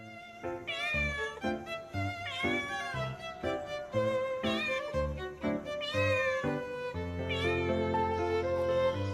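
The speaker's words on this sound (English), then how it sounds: "Cat." A domestic cat meows repeatedly and loudly up close, a steady run of drawn-out, wavering cries with short pauses between them, heard alone without any talking.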